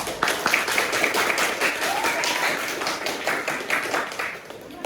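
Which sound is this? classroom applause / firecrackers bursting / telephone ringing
classroom applause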